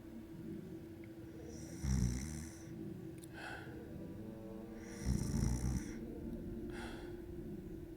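A voice imitates a realistic snore, two long rasping inhaled snores with snorting texture spaced a few seconds apart, each followed by a softer breathy exhale, close and fairly quiet with no other talk.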